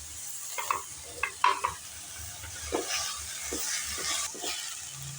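Greens and tomatoes sautéing in a pan for a pepper-tomato-greens chutney, a soft steady sizzle broken by a few brief scraping stirs near the start and again midway, heard alone.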